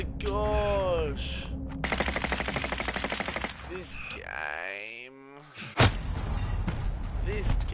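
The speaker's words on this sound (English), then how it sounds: "I'm taking fire!" Rapid machine-gun bursts rattle through a video game firefight, loud and close, mixed with thuds and other effects as a player shouts over the shooting.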